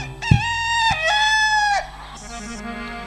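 A human voice imitates a rooster's crow in a loud, drawn-out call with a rising then sustained tone, close to the listener.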